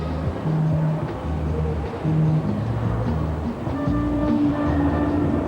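A Eurostar train at Waterloo station squeals as it moves. Rhythmic rail clatter and low rumble run underneath, and high sustained screeching tones rise toward the end.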